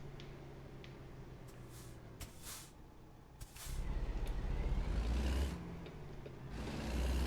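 Truck engine in American Truck Simulator, a low steady rumble that swells louder partway through, with a sharp air-brake hiss and other short bursts on top.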